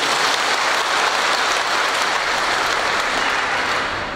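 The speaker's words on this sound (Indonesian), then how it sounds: "Tepuk tangan untuk beliau juga." Steady, dense applause from an audience at the opening of a civil service pre-service training for honorary staff in Tana Toraja regency, loud and continuous, easing slightly toward the end.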